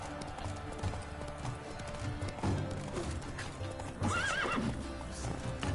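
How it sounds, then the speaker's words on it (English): Horse hooves clip-clop at a gallop in The Witcher 3, a steady drumming rhythm close by, with a horse neighing and whinnying partway through over a busy game soundscape. "Move, horse!"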